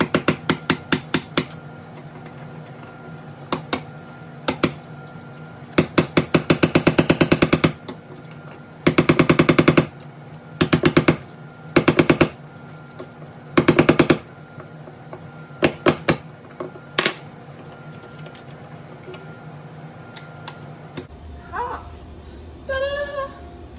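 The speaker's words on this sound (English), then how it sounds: "I know this is a screwdriver, but I'm using it to chip away this grout." A screwdriver chips grout out between tiles in rapid metallic bursts of tapping and scraping, repeated in short loud clusters with pauses between them. Faint mutters and rustling follow near the end.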